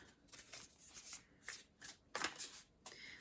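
A deck of tarot cards riffled and shuffled in several quick bursts, close and crisp, with short pauses between, no voices.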